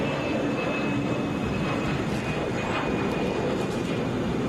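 A Delta Airbus A319 taking off from Atlanta makes a loud, continuous broadband jet roar with a thin steady whine, dense and unbroken across the few seconds.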